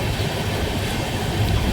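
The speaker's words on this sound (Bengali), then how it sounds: "আমাদের ট্রেন ছুটে চললো" Netaji Express running on the long Kalka to Howrah line, a steady continuous rumble of train noise with low roar and broadband rattle, fairly loud and even throughout, no voices.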